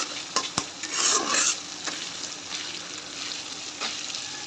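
Curry with plenty of crushed garlic sizzles in a pan while being stirred and tossed, with spatula scrapes and a few sharp clinks against the metal over a steady frying hiss.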